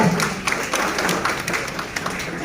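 An audience applauds for Ramesh at a Vasavi Club installation ceremony, with dense, steady clapping from a crowd filling the whole short stretch.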